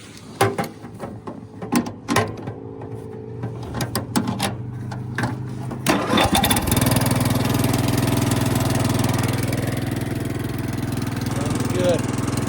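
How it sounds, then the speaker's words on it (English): Murray 17 HP riding lawn mower engine: clanks and short attempts at first, then it starts and settles into a steady, loud, close running drone that continues to the end. "see if we can get it running. All right, here's the mower."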